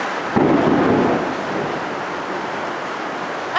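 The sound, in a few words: rain falling in the countryside, with thunder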